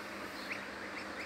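Domestic geese on a village farm give a few faint, distant honking calls over a quiet background hiss, with short squawks spaced through the moment.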